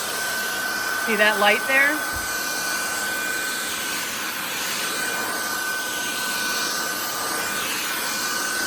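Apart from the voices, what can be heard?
cordless stick vacuum cleaner running on max suction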